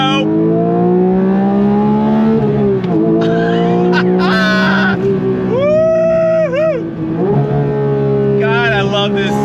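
Porsche 992.1 911 GT3 sports car engine revving hard toward 9000 RPM, a loud, continuous high-pitched wail rising and dipping through gear changes and filling the whole stretch up close.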